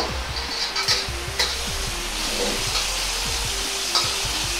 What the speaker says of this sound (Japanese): 底と側面が固まるまでヘラで整えながら焼いていきます。